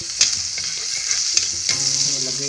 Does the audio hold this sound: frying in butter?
yes